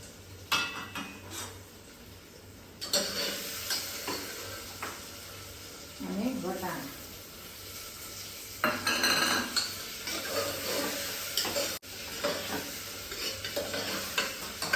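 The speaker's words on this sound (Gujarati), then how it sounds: "હવે આપણે બટેટા નાખી દઈશું." Potatoes are added to a hot pan and stirred as they fry for a masala khichdi meal, giving steady sizzling with scraping spoon-on-pan clatter in bursts. Someone speaks briefly partway through.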